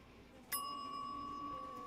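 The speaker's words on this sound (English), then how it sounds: "Get that egg bell out, that egg timer. Ding." A single bright ding from a small egg timer bell rings out at half a second, its clear tone sustaining and slowly ringing on over soft background noise.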